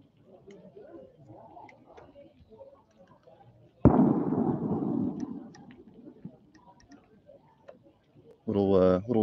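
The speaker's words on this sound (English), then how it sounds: "little gunshot there" A single sharp gunshot cracks out loudly, followed by a decaying rumble; quiet talk is heard before and a louder voice afterward.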